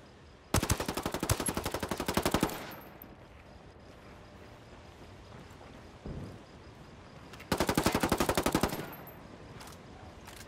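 Machine gun fire in a video game, two sustained rapid bursts of roughly two seconds and one second, loud and evenly paced, separated by a quiet gap with a single faint thud.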